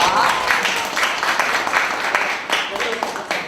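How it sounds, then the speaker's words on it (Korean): An audience at a startup lecture Q&A session applauds as three guest speakers are thanked, giving a dense, steady wash of clapping that fills the whole clip with a few louder bursts near the end. "세 분께 큰 박수 부탁드리겠습니다"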